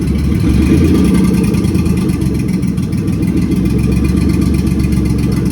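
A Pontiac Fiero engine idles after its throttle-body idle air control sensor was replaced, loud and close with a steady low rumble and no clear surging throughout.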